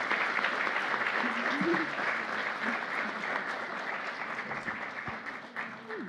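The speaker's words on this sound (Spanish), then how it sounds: "Un fuerte aplauso" An audience at a criminal-justice seminar applauds after a speaker's talk, a broad, steady roar of clapping filling the room, with a few voices faintly audible underneath.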